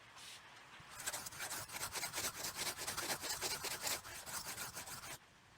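A blade is sharpened on sandpaper with quiet, rhythmic scraping strokes, repeated steadily for about four seconds, close up with no talking.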